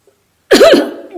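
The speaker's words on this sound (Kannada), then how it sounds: "ಗಂಡ ಒಂದೇ ಸಮನೆ ಕೆಮ್ಮತೊಡಗಿದ್ದು ಕಂಡು" A man coughs once, a single harsh, close burst after a short silence, trailing off with a rasp.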